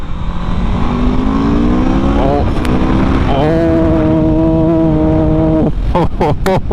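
A 2021 Aprilia RSV4 Factory motorcycle engine, about 1100 cc, roars steadily while riding through traffic, its pitch climbing through the gears, then sharp revving bursts near the end, loud and close.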